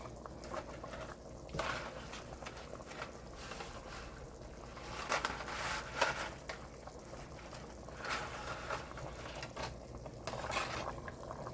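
Homemade chicken noodle soup simmers in a pot with a soft, steady bubbling that rises and falls in small bursts, fairly quiet and with no voices.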